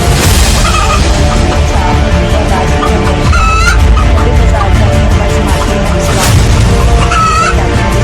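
Red hens and other chickens at a market squawk and cluck loudly and continuously amid dense, busy crowd noise, with occasional sharp honking calls rising above the din.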